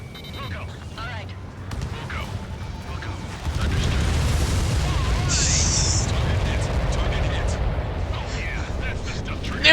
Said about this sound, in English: Confirming explosion.